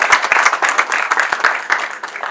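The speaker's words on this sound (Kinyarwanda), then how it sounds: "tubahaye rwose amashyi menshi" Brisk applause from wedding guests for a bride and groom in Kigali, dense clapping at close range with a faint voice underneath, lasting a couple of seconds.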